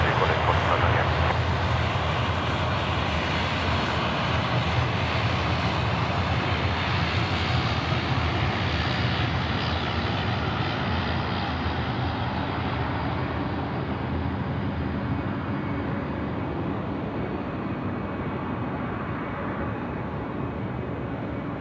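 A Qantas airliner lands at Sydney Airport at night, its jet engines producing a steady, broad roar that slowly fades as it passes, heard from a distance with a voice talking over the top.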